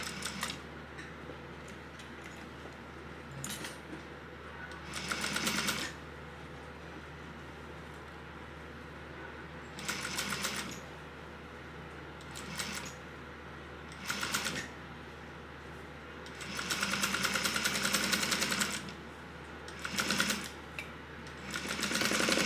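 Sewing machine stitching a 3/8 inch seam, heard as several separate bursts of stitching of a second or two each, separated by quiet pauses, with one longer run near the end.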